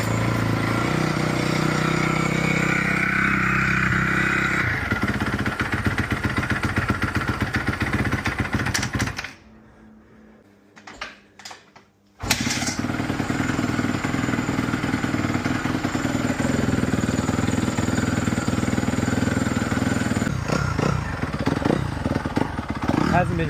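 A 2017 Honda CRF250R dirt bike, long stored, runs after a second kick start, its engine loud and close with a raspy idle and revs, briefly cutting out midway before roaring again; a voice speaks over it.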